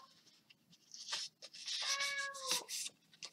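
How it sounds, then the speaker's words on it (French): A cat meows repeatedly and insistently indoors during a scrapbooking craft session, with several drawn-out, fairly loud calls close to the microphone. "Je suis désolée pour le miaulement."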